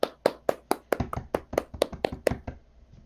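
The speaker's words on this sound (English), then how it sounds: "so another round of applause for him" A single pair of hands claps about a dozen times in a steady, brisk rhythm for a round of applause, close and fairly quiet, with no talk.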